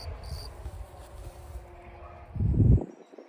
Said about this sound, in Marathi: पण रातकिडे बघ किती आवाज करतात.